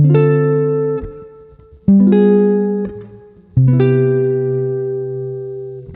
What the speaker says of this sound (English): So our entire 2-5-1 with voice leading here a little higher up on the neck sounds like this.